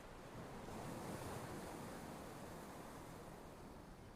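Strong ocean waves surge in a northern Norwegian fjord, a steady, loud roar of churning surf with wind buffeting throughout, continuous and without pause.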